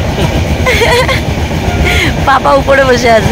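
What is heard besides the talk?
train running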